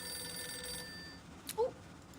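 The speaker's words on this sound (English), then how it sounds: "The telephone rings." A telephone rings faintly in the video game Reverse: 1999. The steady bell tone fades after about a second, and a brief brighter chirp follows over a low background hum.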